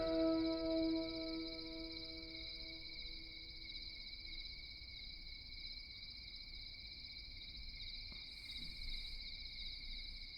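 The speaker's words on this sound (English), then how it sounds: "Like a sample of some crickets chirping and 2 synth sounds." Steady, continuous cricket chirping with high sustained trills, joined early by low tonal synth drones that fade after a couple of seconds, in a dungeon synth track.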